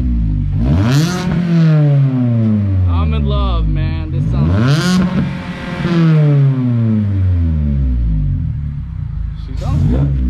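Mazda ND Miata fitted with an ISR exhaust revs repeatedly, each loud rise and fall of engine pitch rasping close by, with a person speaking between the revs.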